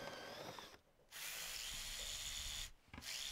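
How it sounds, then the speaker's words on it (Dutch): A power drill whines steadily while boring two holes into wood for a tissue holder, stopping twice briefly before spinning up again, close and loud. "We gaan daar ineens twee gaten in boren"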